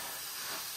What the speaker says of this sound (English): Should I give it a hit with the steam?